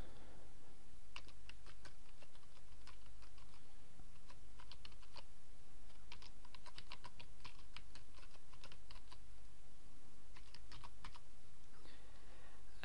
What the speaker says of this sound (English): I'm going to give the new user the username Sam the Man, and the email address